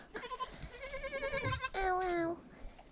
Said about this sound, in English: I'm gonna scare the little goats.